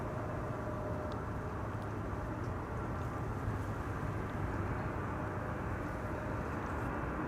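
An Etihad airliner at Amsterdam Schiphol Airport, a steady, distant broadband jet roar that stays even throughout with no other sounds standing out.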